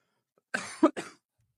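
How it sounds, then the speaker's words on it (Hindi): A single close cough, a sharp burst followed by a second quick hack, alone in an otherwise quiet space. "खांसी मुझे आती रहेगी, आई एम सॉरी"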